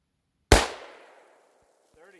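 A 6.5x284 Norma rifle firing a 127 grain Barnes LRX round: one loud, close shot with a long decaying echo, followed by faint brief voices near the end.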